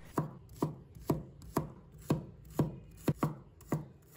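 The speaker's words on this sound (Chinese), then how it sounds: "接下来我们准备几个红葱头，把它切成片" A knife chops shallots into slices on a board, nine or ten crisp, evenly spaced strokes about half a second apart, close and clear with no talking.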